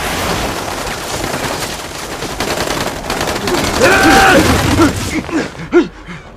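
Rapid bursts of automatic gunfire in a combat shooting scene fill the whole stretch. The firing is dense and loud, with brief shouted voices and a tonal whine near the end.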